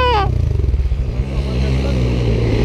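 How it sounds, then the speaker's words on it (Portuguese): A small dirt bike climbs a trail on a 2020 ride near Santa Luzia, Mimoso do Sul, its engine revving loud and close with a brief rising whine then rough chugging under excited shouting. "E aí vem o Pelica na motinha do nosso amigo"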